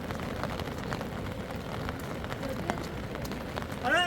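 Steady rain pattering on surfaces at a nomadic camp, a dense continuous hiss with scattered louder drops, briefly joined by a voice calling out at the end.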